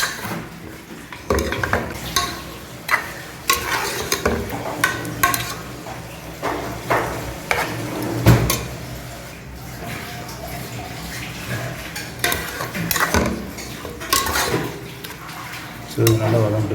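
Mutton gravy with fatty bone-in meat sautéing in a pan, stirred in repeated scraping, clattering strokes of a spoon against the metal over a low sizzle, close and fairly loud, with some voice in the background.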